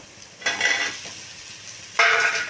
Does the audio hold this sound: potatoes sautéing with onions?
yes